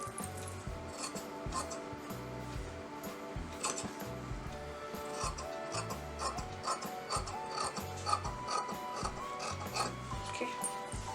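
Scissors cut through canvas interlining for a half collar neck, giving a run of repeated crisp snips and rasping fabric sounds, close and moderately quiet over a steady tonal background hum.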